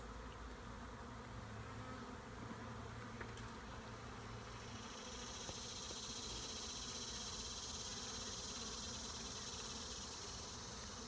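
A swarm of honeybees hums steadily around a person wearing a bee beard, a soft continuous drone at low level with no talking.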